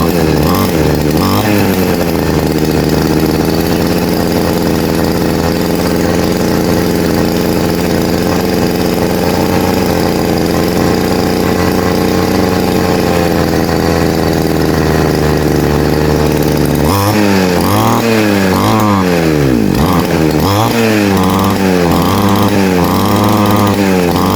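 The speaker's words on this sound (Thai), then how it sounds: "อาการนี้เครื่องเร่งไม่สุดครับเร่งแล้ว แบบเหมือนมันทื่อๆอ่ะเร่งทื่อ" A close, loud RBC411 brush cutter engine that will not reach full throttle holds a steady drone, then revs in uneven, sluggish surges that rise and sag repeatedly.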